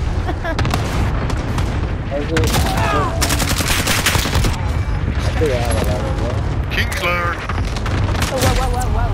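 Gunfire in Call of Duty: Modern Warfare: loud, dense bursts of automatic shots and booming artillery-like blasts fill the whole stretch, with players talking over the constant battle noise.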